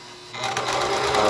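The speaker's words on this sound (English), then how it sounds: "winding the bobbin" A White model 1418 sewing machine winds its bobbin, starting with a soft hum and then swelling into a loud, steady, close-up whirring drone with no talking.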